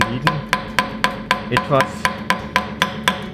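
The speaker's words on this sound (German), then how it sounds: "Und zu allerletzt braucht man einen Hammer und versucht jetzt hier diese Nieten" A hammer taps the rivets of a tie strap safety holder against a steel plate, about a dozen sharp, evenly paced strikes roughly every quarter second, close and loud, with a brief spoken word partway through.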